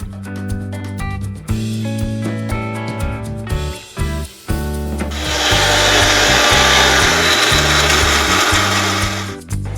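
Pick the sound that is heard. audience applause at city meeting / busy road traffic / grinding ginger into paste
grinding ginger into paste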